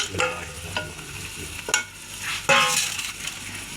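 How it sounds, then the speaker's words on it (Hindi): Cooked beef and a freshly made masala are stirred together in a pot for beef pulao, with close, wet scraping strokes and a soft sizzle rising and falling in a few uneven sweeps, and no talking. "तो अब मैं इसको अच्छी तरीके से मैं मिक्स कर लूँगा"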